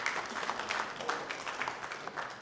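Audience applause for an engineer at a Ghana Institution of Engineers event, a dense, steady patter of many hands at moderate, fairly distant level throughout, with no talk over it.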